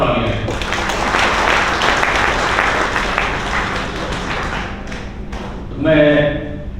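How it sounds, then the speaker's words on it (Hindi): Clapping from the audience at an award ceremony in Baroda, Rajasthan, honoring bank branches. Steady mid-level applause thins out toward the end, when a voice begins speaking. "उन सभी 16 शाखाओं के लिए जोरदार तालियां"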